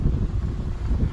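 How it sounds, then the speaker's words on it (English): Wind gusting across an open balcony above a beach and pool, a steady low rumbling buffet against the microphone for a brief moment, no talking. "It's windy."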